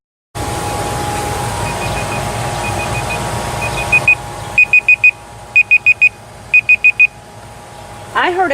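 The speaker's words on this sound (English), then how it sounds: "I heard a timer." Groups of sharp, high electronic cooking-timer beeps, first faint, then louder in three quick bursts of four, over a steady background hum.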